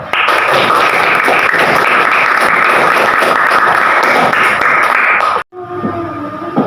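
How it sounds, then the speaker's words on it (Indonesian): Students in a classroom give sustained, close and loud applause for a presenting group, many overlapping claps filling five seconds, then stopping suddenly as quieter room sound follows. "Tepuk tangan untuk kelompok 3"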